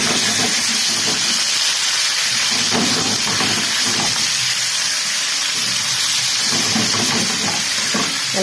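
Kidneys and liver sautéing in a very hot pan, a loud continuous sizzle and hiss with crackling throughout, no voices.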